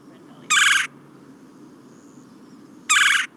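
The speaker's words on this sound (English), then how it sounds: "I just love the sound of a red-bellied woodpecker." Two loud, clearly separated rolling chirrs of a red-bellied woodpecker, each about a third of a second long, ring out against a quiet winter backdrop with a faint low rumble.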